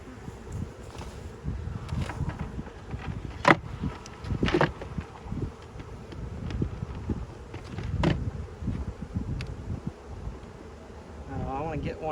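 Bees hum steadily around an opened beehive during a chemical-free hive check, a dense close buzz mixed with wind, brief knocks and handling sounds.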